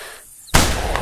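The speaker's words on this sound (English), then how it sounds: "I think I should actually take it down with the shotgun." A single loud shotgun blast during a rabbit hunt bursts out sharply after a quiet moment, then rings and decays into the open air.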